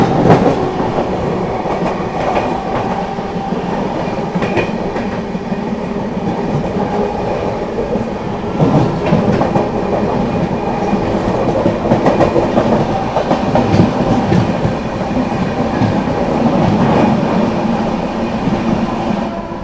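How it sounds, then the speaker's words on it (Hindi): The Bhiwani–Prayagraj Kalindi Express rolls past close by, a loud continuous rumble threaded with rhythmic clickety-clack of wheels over rail joints for nearly twenty seconds. "चलिए यहाँ पर सामने से आ रही है अपनी कालिंदी एक्सप्रेस।"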